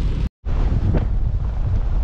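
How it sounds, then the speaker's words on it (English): Wind at a beach blasts straight across the microphone as loud, constant rumbling buffeting, interrupted once by a short dropout. "Well, it sure is windy."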